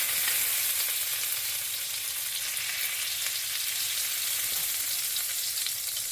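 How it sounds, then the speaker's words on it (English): Lacha paratha frying in butter in a pan, a steady bright sizzle and crackle running continuously at close range, with no talking. "We're going to just surround the side with butter."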